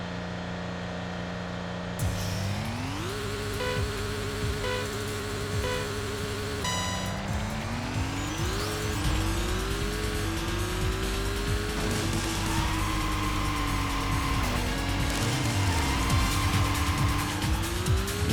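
Mazda RX-7 FD rotary car racing in Racing Lagoon on PlayStation, a loud sustained buzzing engine note rising and falling through gear shifts, with tire squeal and no talk.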